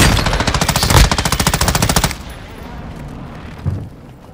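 Rapid automatic gunfire from a zombie-mall shooter video game, a loud fast rhythmic burst lasting about two seconds, followed by quieter ambient game sound and a single thud near the end.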